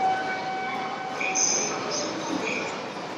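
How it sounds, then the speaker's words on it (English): A JR train at a station platform in Japan rumbles steadily, fairly loud and close, with high-pitched metallic wheel squeals rising over the broad rail noise. "Going to the 914 train."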